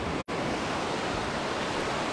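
Rough surf washes along the beach by the seaside promenade in Side, Turkey, a dense, steady roar of breaking waves and wind that runs throughout, with a brief dropout near the start.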